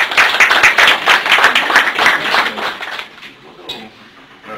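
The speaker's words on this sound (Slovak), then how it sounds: "takže to si zaslúži potlesk" Applause from an audience at an advertising agency of the year awards ceremony, brisk dense clapping for about three seconds that then drops away to a few scattered claps and near quiet.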